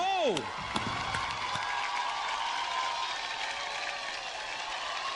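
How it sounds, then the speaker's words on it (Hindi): A crowd at an awards show applauds, sustained clapping and some cheering filling the space after a brief musical sting. "इस टीम के लिए जोरदार तालियां होनी चाहिए।"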